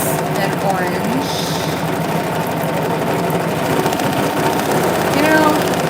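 A sewing machine hums steadily while stitching lace details for a Halloween lantern, a close continuous mechanical drone with a few faint squeaky chirps over it.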